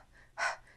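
A single sharp, breathy exhalation from a singer doing a rapid dog-like panting breathing exercise, short and close, alone against near silence.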